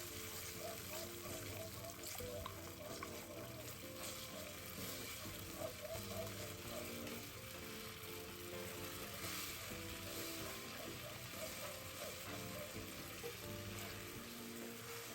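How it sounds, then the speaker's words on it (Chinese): Thickened seasoning sauce with melted butter boils on high heat in a pan, bubbling and sizzling in a steady, dense hiss that runs unbroken and fairly close throughout. "煮得比较浓稠后的酱汁会起大小泡"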